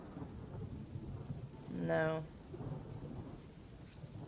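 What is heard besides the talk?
rain and thunder in the video game Castle Flipper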